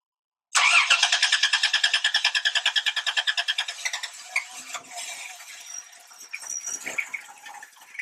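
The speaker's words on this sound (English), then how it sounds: "you would be able to hear what it sounds like when it has a long crank time" A 1993 Dodge Grand Caravan with the 3.3 liter engine cranks at length: about twenty evenly spaced starter chugs over three seconds, then a rough, uneven catch and sputtering idle, close and moderately loud, no voices.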